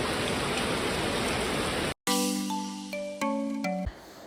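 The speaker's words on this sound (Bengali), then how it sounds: "আর এই যে বৃষ্টি পড়ছে" Heavy monsoon rain pours steadily outside a home in Bengal, a dense, loud wash of sound that cuts off abruptly halfway, followed by tonal chimes and beeps.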